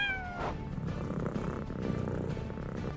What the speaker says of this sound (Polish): Koty nie miauczą do siebie.